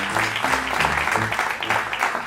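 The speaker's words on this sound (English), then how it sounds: "So give those kids a big round of applause." Audience at an open mic jam claps for a group of kids who just performed, a steady dense applause with some voices and cheers mixed in, lasting the whole moment.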